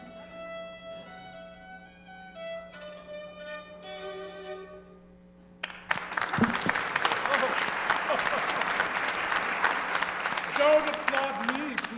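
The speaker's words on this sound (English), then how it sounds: "Don't applaud me, please." Audience applause breaks out after a solo violin melody ends, a sudden loud wave of clapping that continues steadily for several seconds.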